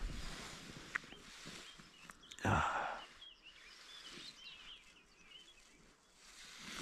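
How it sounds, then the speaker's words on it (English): Birds call and sing faintly in the distance around a campsite at sunrise, with a soft rustle or sigh close by and otherwise quiet open air. "Been sat here for a little while and just listen to the birds."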